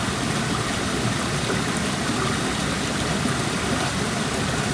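A 15 m high waterfall pours in a steady, dense broadband rush, loud and close, unbroken for the whole stretch with no voices.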